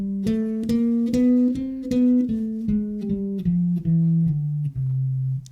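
Jazz bass line of about a dozen legato notes climbing through the flat and natural seventh, then stepping down through the sharp fifth, with a warm, close tone and no talking.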